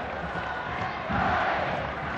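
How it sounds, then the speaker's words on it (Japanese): A stadium crowd at a Japan versus China football match in Kobe roars in a broad, distant wash of voices that swells slightly partway through. "大歓声になりました。"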